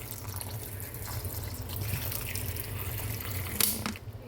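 Water pours steadily into a pot with a continuous splashing rush, close by, then cuts off near the end.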